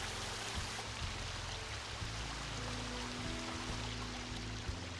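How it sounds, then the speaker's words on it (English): Water flowing over decorative waterfall rocks in The Sims 4, a soft continuous splashing trickle that stays faint and steady, with low tonal game sounds humming underneath. "But I really love those waterfall rocks."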